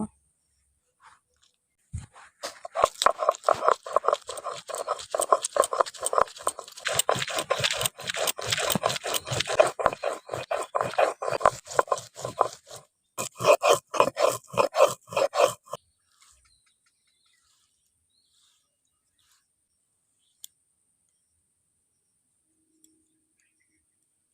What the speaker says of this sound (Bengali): আমি এখন জিরে বেটে নিচ্ছি আর শুকনো লঙ্কা কাঁচা লঙ্কা নিয়েছি একসঙ্গে বেটে নেব